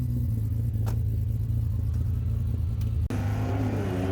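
A drag car engine running without nitrous drones and revs steadily at close range, a deep rumbling roar that never climbs much higher, with a brief cut near the end.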